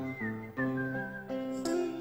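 A man whistles a short melodic tune, three or four clear sustained notes with small pitch slides, close and alone.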